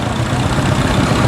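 A Fordson E27N tractor's petrol-paraffin engine idles steadily close by, a loud, even low rumble with no talk over it.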